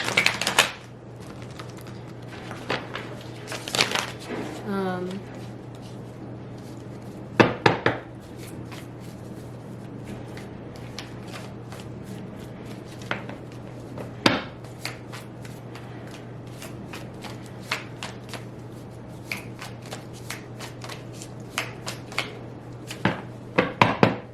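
Tarot cards are riffled and shuffled by hand, with bursts of rapid flicking and scattered soft taps, close by with no talking.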